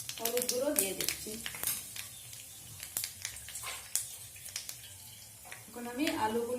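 Dried red chillies and black cumin sizzle in hot oil in a pan for a pumpkin stalk chorchori, a soft steady crackle with light stirring clinks, while a voice talks over it.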